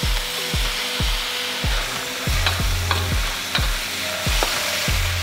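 Mushrooms stir-fried with beef in a hot wok for a green bean and beef dish, with steady loud sizzling broken by a regular series of sharp scraping spatula strokes and clanks, about two per second, with no talking.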